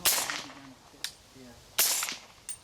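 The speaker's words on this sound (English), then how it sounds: "this is 170 grain CMMG subsonic through the Houston Armory" Two suppressed 300 Blackout shots firing CMMG 170 grain subsonic rounds through a Houston Armory suppressor, each a sharp close crack with a short decaying tail, the second coming about 1.8 seconds after the first.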